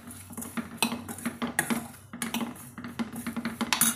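A spoon scrapes and clinks steadily against a metal pot, stirring a ridge gourd and pepper kadayal in a quick, irregular rhythm close up, with no voices.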